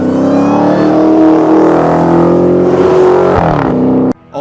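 A Dodge Charger muscle car with a supercharged 6.2-liter SRT Hemi V8 and 8-speed automatic accelerates hard, its loud engine note rising steadily in pitch as it revs, then cutting off abruptly near the end.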